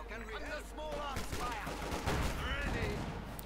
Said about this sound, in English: rapid machine gun fire there quickly kills the crew